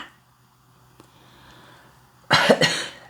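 A man coughs hard in a short burst of several rough, close coughs after a quiet stretch, loud and alone without speech.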